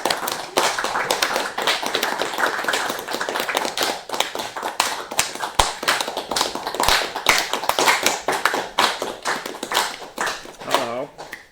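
An audience claps for the first presenter at a game development stand-up event: dense, steady applause runs for about eleven seconds, with voices mixed in and a brief vocal sound near the end.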